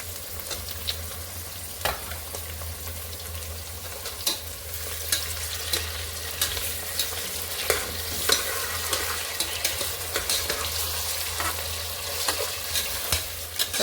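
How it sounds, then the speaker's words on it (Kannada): Chopped tomatoes fry in oil for chicken biryani, a soft steady sizzle broken by repeated scraping clicks of stirring, close and quiet with no voices. "ಈಗ ಟೊಮೆಟೊ ಎಲ್ಲ ಚೆನ್ನಾಗಿ ಫ್ರೈ ಆಗಬೇಕು."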